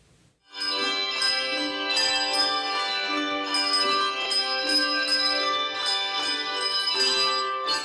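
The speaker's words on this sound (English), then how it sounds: "The ringing of bells is resounding throughout Ephrata as the year comes to an end." A youth handbell group rings continuously for several seconds, overlapping bright tones in a steady sequence of strikes, clear and close with no talking.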